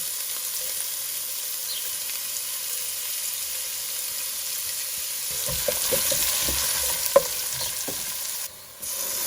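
Onions and curry leaves frying in a pan, a steady hissing sizzle with a run of spoon scrapes and knocks in the second half and one sharp clank, close and fairly loud.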